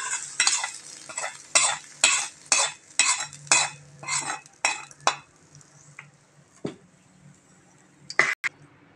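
Sautéed onions stirred into mudakathan paniyaram batter with a spoon, heard as a run of about a dozen rhythmic scraping strokes against the bowl, close and fairly quiet, ending in a couple of separate clinks.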